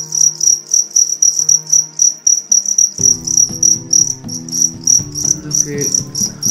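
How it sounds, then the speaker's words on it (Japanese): Crickets chirp loudly and steadily in rapid, even pulses close by, joined partway through by a soft, low musical hum beneath them. "ちょっとコオロギさんの鳴き声が大きくて申し訳ないんですけど"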